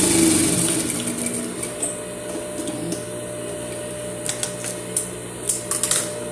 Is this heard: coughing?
no